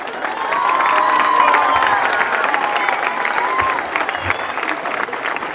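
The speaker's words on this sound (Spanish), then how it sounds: "Un aplauso para el señor" A crowd at an outdoor inauguration event with children's entertainers claps and cheers, a loud sustained wash of applause with shouts and whistles mixed in, easing slightly toward the end.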